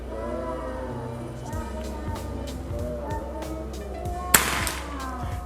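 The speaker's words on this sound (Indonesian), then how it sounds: "tembakan yang pertama kita bikin titik perkenaan terlebih dahulu" A PCP Predator Escobar plenum air rifle fires a single sharp, brief crack during a 50-metre accuracy test, heard once above a steady background bed of sound.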